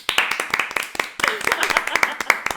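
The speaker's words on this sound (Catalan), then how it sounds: "Jo crec que aquí es mereix Un aplaudiment" Short bursts of hand clapping from a small group in a podcast-style conversation, uneven sharp claps spread over a few seconds with voices mixed in between.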